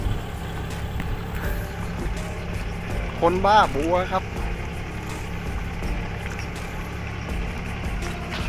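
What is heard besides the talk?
farm tractor engine hauling lotus plants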